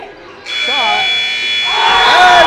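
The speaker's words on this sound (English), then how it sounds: "Right at the buzzer." A loud, sustained electronic buzzer at the end of a modified boys' basketball game in a gym, sounding over an eruption of crowd cheering and shouting.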